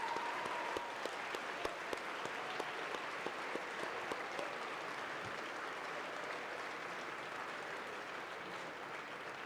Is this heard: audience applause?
yes